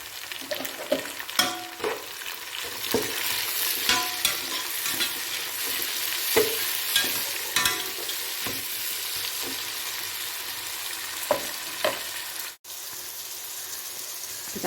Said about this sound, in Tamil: தக்காளி ஓரளவுக்கு வதங்கிடுச்சு.